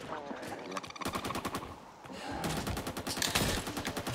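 Rapid gunfire from the video game Back 4 Blood: bursts of automatic shots in quick succession, loud and close, pausing briefly midway before resuming in a dense volley.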